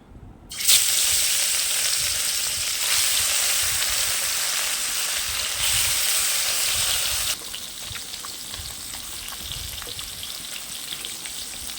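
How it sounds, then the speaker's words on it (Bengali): Loud, steady sizzling of rohu fish frying in hot oil in a wok, a dense crackling hiss that drops slightly in level partway through; no voices. "এখন মাছগুলো কড়াইয়ের মধ্যে ছেড়ে দেবো"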